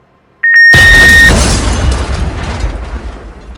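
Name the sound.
loud explosion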